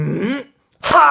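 A person sneezes with a mouthful of Mentos and cola, a sharp, loud, close burst preceded by a brief vocal sound and a short silence.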